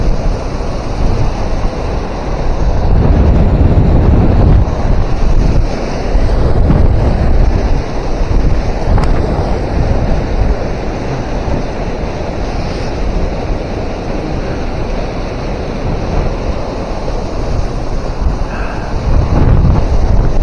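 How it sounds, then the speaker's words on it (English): Strong wind buffeting the microphone beside a river dam on the Fox River, a loud continuous low rumble with gusty surges, with rushing water faintly underneath and no voices. "We're just getting blown. Blasted by the wind"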